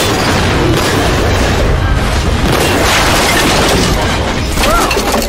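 A cartoon explosion roars as a dense, loud, sustained blast of noise, filling the whole stretch without pause or quieter gaps.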